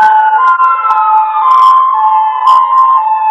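A loud police siren wails continuously, its steady high tone sliding slightly as the vehicle sounds close by, with no voices.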